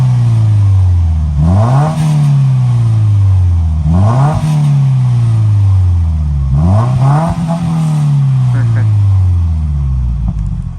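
A Subaru WRX fitted with a Tomei exhaust revs three times in steady succession, each blip rising sharply and falling away to a deep idle burble, loud and close with faint crackle between pulls.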